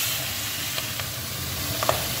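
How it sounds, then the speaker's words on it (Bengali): Three fish frying in oil in a pan, a steady close hiss and crackle of sizzling that runs without a break, with a few faint utensil taps near the end. "3টে মাছ, 3টে মাছও ভেজে নিই"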